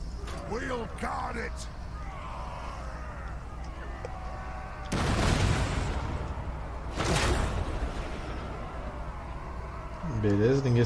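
Two heavy artillery impacts in a Total War: Warhammer II battle land as broad booming thuds a couple of seconds apart over a steady battlefield drone, with someone talking before and after.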